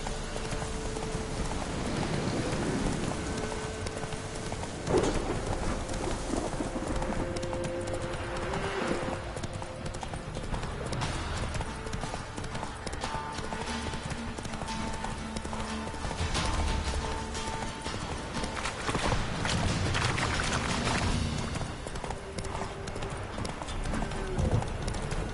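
Hooves of Geralt's horse Roach clop continuously in The Witcher 3, a steady riding rhythm under music and environmental game sounds.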